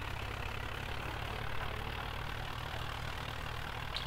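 Farm tractor engine in Landwirtschafts-Simulator 2011 running steadily with a low, droning hum, moderately close and continuous with no talk over it.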